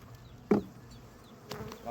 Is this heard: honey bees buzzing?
yes